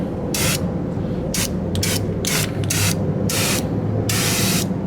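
Rust-Oleum turbo spray system can of rusty metal primer spraying in repeated loud hissing bursts, several blasts of varying length over steady background noise, close to the listener with no talk.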